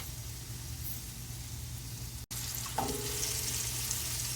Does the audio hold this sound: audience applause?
no